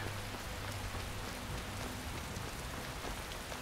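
Heavy rain falls steadily in the Skyrim video game, an even, unbroken wash of drops on surfaces with a faint low hum beneath, constant in level throughout with no voices.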